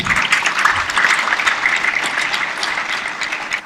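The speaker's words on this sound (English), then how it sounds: "please give her another round of applause" Sustained applause from a large audience at a Model UN opening ceremony, a dense even wash of many clapping hands that holds steady for several seconds, with no speech over it.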